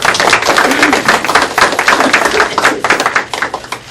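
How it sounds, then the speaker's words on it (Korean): Applause from the audience at a political party emergency committee meeting, following a candidate's announcement that he is running for office. Dense, steady clapping fills the room continuously and fairly loudly, without pause. "박수 한번 부탁드리겠습니다"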